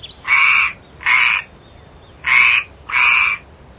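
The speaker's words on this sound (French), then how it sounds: "la grenouille coassait doucement" A frog croaks softly in four separate bursts, evenly spaced with short pauses between them, close by and alone with no other sounds.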